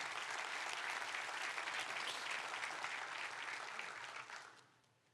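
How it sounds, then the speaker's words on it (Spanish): A church congregation gives God a loud, sustained round of applause that holds steady for several seconds, then fades out quickly at the end. "Denle un fuerte aplauso a Dios por eso."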